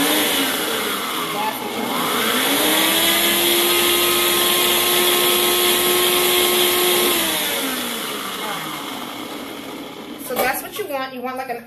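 A blender whirs up, holds a steady high motor whine while pureeing onions into a slurry, then winds down; a loud clatter follows near the end.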